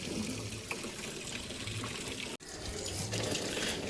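Water runs steadily into a container being filled outdoors, a continuous hissing splash with one brief break midway, fairly loud and close with no voices.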